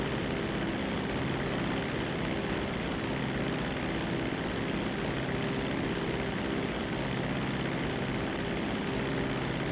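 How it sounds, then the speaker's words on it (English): A Dodo propeller plane idles in GTA near a runway at Los Santos International, its engine a steady, continuous droning hum, loud and unbroken, with no voices over it. "Los Santos International traffic, Dodo Percy 1 is crossing runway 30 right for Percy's planes"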